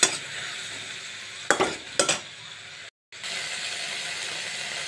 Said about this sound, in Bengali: এবার এই মাথা বাটাটা ভালো করে ভেজে নেব।